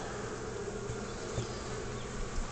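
Honeybees in a top bar hive crowded with brood produce a steady, dense buzzing drone, close and continuous throughout with no voices.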